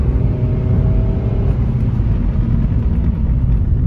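A 2016 Honda Jazz V petrol hatchback with high mileage pulls in third gear, its engine a steady, muffled rumble and whir heard from inside the cabin with no talking.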